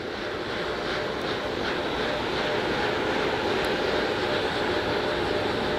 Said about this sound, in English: The 4 core stage RS-25 engines gimbaling around, testing the ability to steer the rocket into space.